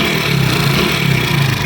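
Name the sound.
Honda Pridor motorcycle engine making a fault noise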